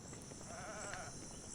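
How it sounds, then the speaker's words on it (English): Goat bleating in Zelda: Breath of the Wild, a single short wavering bleat of moderate loudness, set against a steady high ambient game tone. "Oh, it's a goat. It's the goat."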